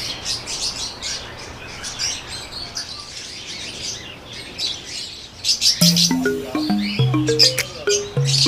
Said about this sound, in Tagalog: So, merong mga ibon din pala dito, no?